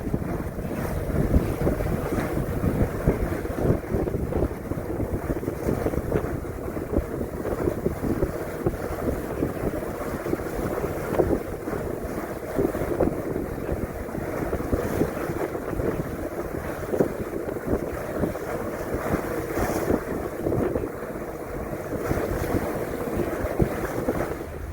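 Steady wind and water rush around a sailboat under way in a 25-knot westerly to northwesterly breeze, constant and fairly loud with microphone buffeting and waves washing along the hull throughout.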